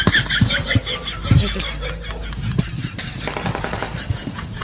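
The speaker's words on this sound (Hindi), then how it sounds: "यहाँ पर गोलियों की आवाज सुनाई दे रही है जम्मू शहर में" Sharp bursts of gunfire crack in Jammu city during a news broadcast, a few loud snaps early on and scattered pops later, mixed with background voices and commotion.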